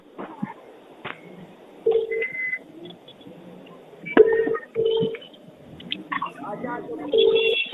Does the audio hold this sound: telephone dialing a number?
yes